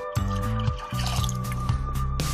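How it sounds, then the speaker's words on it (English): Milk pours into a bowl of cupcake batter in a home kitchen, a close liquid glugging and dribbling in several short pulses over a faint background hum. "Milk in."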